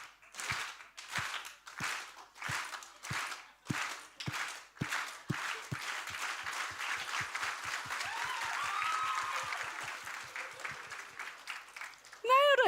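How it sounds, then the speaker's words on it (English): An audience slow clap at a national grand final of a competition, starting as spaced single claps that quicken into steady rhythmic clapping from a crowd, with light voices mixed in and a burst at the end. "Let's slow clap them in."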